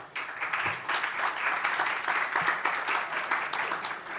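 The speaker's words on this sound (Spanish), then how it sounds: "Un aplauso para Santiago." Steady applause from a conference panel audience fills the space, dense continuous clapping holding at an even level throughout.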